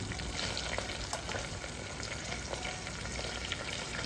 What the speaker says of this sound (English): we are going to add the main ingredient, which is your gram flour, that's the besan